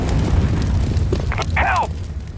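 A grenade detonation in Counter-Strike: Global Offensive on a casual Vertigo match, a loud low boom rumbling throughout, with a sharper burst and crackle near the end and game voices calling out over it.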